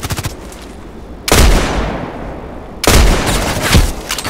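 Machine gun fire in the shooter game Contract Wars comes as loud, close bursts of rapid automatic shots, with two long sustained volleys after a short opening burst.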